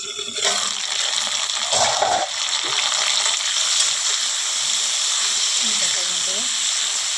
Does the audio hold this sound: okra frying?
yes